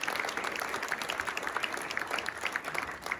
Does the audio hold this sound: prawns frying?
no